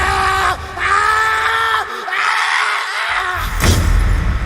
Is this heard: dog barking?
no